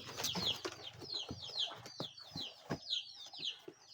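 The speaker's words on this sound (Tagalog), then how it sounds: "gulay pala at saka dalawang manok yung laman ng karton" Two chickens clucking inside a cardboard box given as a birthday gift, soft repeated clucks and short calls close by, with faint rustling and wing bumps against the cardboard.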